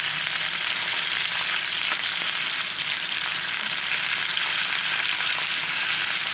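A New York strip steak sizzles in butter in a cast iron skillet, giving a dense, steady, close crackle with no break and no talking.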